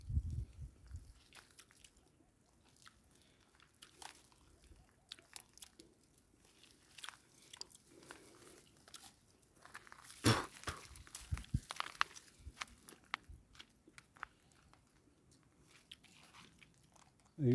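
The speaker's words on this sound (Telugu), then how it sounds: "ఈ పండుకాయలు నేను తింటాను" Crunchy bites and chewing on wild balusu fruit outdoors, a run of close, irregular crisp crunches with a louder burst midway and quiet gaps between chews.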